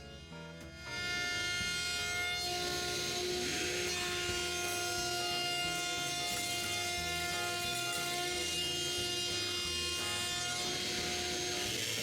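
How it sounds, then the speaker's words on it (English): Router cutting a chamfer along the edge of a wooden panel, a steady high-pitched whine that starts abruptly after a quiet second and holds constant and loud, with no talking. "I can route the chamfer on the first layer"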